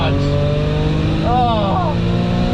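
A 2014-era Audi B8 S4 launches hard off the line at a drag strip, its engine roaring loud and steady with rising, revving harmonics while a voice briefly exclaims over it.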